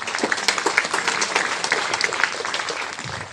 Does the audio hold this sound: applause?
yes